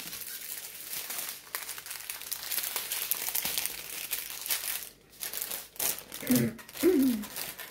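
Crinkly plastic packets of diamond-painting gems rustle and crumple in bursts while being put away, with sharper crackles toward the end and brief vocal sounds near the close.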